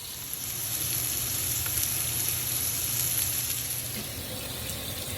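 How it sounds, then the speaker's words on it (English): Chunks of cut bacon fry in a pan with a continuous, even sizzle close by, holding steady for several seconds with no talk. "I've got the bacon started"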